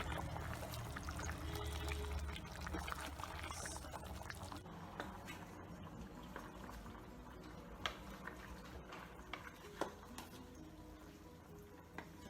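Water pours and trickles into Indian-style chicken gravy in a cooking pot, a soft continuous splashing stream with faint clinks, quiet and close with no talk.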